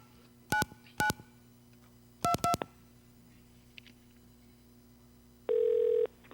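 Touch-tone telephone keypad dialing of a phone number over a line, with separate bursts of dual-tone beeps in short groups, followed by a longer steady tone near the end, loud against a faint hum.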